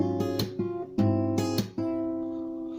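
A short guitar passage from a cover version of a song: plucked chord stabs and picked notes in a syncopated rhythm, the last chord left ringing. Close and clean with no voices.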